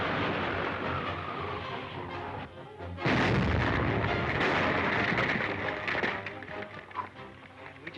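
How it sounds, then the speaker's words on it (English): A big explosion bursts in a 1937 Dick Tracy film serial, a sudden loud broadband blast that stays loud and dense for several seconds after an earlier roar, with no talk over it. "Spider will think we've been killed by the explosion."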